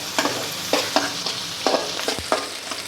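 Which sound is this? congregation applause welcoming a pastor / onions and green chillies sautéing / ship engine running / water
onions and green chillies sautéing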